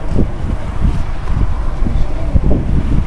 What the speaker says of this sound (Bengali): বাইরে একটু হাওয়াও চালু হয়ে গেল।